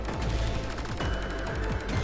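Bombs exploding in the video game Velocity 2X, a rapid dense run of sharp repeated blasts with a steady loud electronic game backdrop and no speech.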